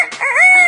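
A parrot imitates a rooster crowing in a short, loud, close call that rises and holds a clear whistling tone, like a compressed cock-a-doodle-doo, alone without talk.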